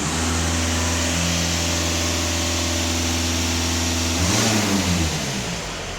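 Skoda Octavia RS with a 230 hp engine revving on its own during diesel particulate filter cleaning, a steady loud hum holding a raised pitch, then the revs shift and waver near the end.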